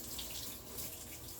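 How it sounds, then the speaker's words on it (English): Water runs steadily from a kitchen tap while a small spoon is rinsed under it, a soft continuous hiss and splash that is quiet and close. "Rinse my little spoon off."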